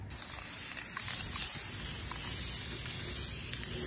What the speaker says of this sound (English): Gotta love spray paint.